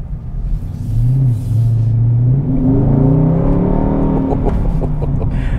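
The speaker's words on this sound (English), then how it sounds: "I'm barely even putting my foot on the throttle here." A 2021 Dodge Charger Scat Pack accelerates with a deep, loud engine rumble whose pitch rises steadily through the gears, heard close from inside the car.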